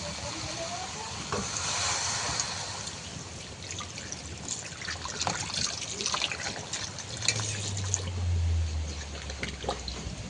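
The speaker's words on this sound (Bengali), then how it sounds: "এবারে দিয়ে দেবো পরিমাণ মতো জল।" Water is poured into a hot pan of frying cumin and fennel seeds, producing a loud hissing sizzle that continues with bubbling and trickling as the liquid heats, with a low hum rising near the end.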